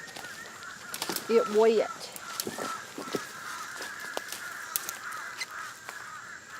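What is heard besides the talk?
birds hollering outdoors, goose and crow calls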